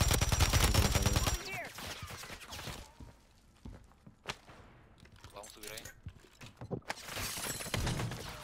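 Bursts of automatic gunfire from Warzone ring out, loud at first and then in sporadic sharp cracks, with a player talking excitedly over the shooting.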